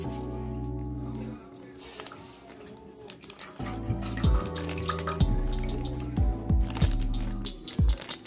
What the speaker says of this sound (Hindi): इस थैली को मैं खोल लेती हूँ। खोल के ये दूध इसमें डाल लेते हैं।